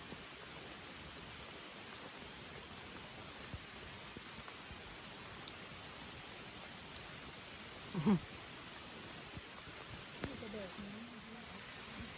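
Rain falling outdoors in rural northeastern Thailand during a mushroom and mountain algae foraging trip, a soft steady hiss of rainfall throughout with a brief louder knock partway through.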